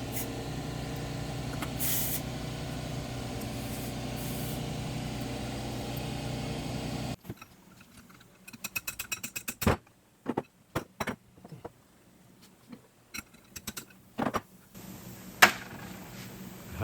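Overdrive cam removed from a Triumph Spitfire single-rail transmission on the bench: after a steady background hum cuts out, sharp metallic clicks, taps and clanks come in scattered bursts, close by and fairly quiet.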